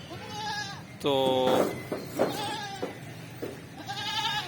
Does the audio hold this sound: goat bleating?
yes